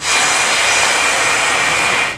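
Private jet engine, a continuous loud broadband roar with a steady high whine running throughout, close and alone, with no voices.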